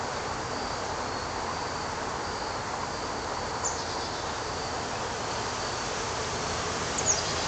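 Honey bees swarming as they move up into a hive, a steady dense buzz of many insects holding at one level throughout, with a faint brief sound near the end.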